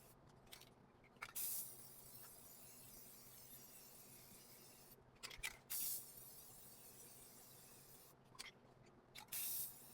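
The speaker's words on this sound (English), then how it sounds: "I'm spray painting it because we have a lot of other elements we're going to add to it." Three separate bursts of spray paint hiss from an aerosol can as a primitive Halloween craft piece gets coated, each burst brief and close, with quiet pauses between them.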